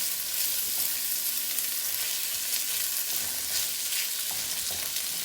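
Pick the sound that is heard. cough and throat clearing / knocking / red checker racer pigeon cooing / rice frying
rice frying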